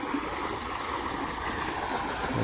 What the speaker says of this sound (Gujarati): બોરનું પાણી આવે છે